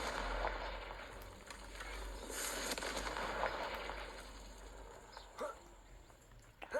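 Confringo blasting spell in a Harry Potter video game, a crackling, fizzing burst of fireworks-like blasts with sharp pops scattered throughout, fairly loud.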